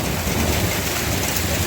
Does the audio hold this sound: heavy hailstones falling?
yes